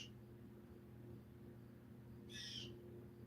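A bird squawking outside, two brief shrill calls heard faintly through steady indoor background hum.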